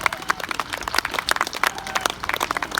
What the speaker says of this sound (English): If I may request a nice round of applause there for them.